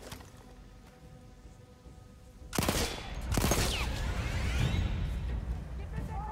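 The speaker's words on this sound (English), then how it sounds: "Oh, they must have heard the gunshots." Gunfire erupts in the World War I shooter Battlefield 1 on PC, starting with a loud sudden volley and continuing as heavy, sustained shooting with whooshing, after a quieter stretch. A player talks over it.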